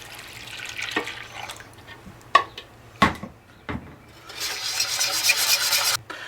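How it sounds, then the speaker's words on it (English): Milk poured into a cocoa, sugar and salt mixture for homemade chocolate pudding, a few clinks of utensils and a pot, then a steady splashing pour lasting about two seconds. "Now we're going to add 4 1/2 cups of milk."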